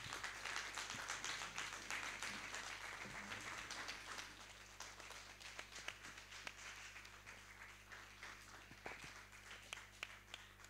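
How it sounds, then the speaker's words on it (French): A church congregation applauds with dense, steady clapping that holds for about ten seconds and slowly thins toward the end, all under a low constant hum, with no voices over it. "Que le Seigneur reçoive les acclamations."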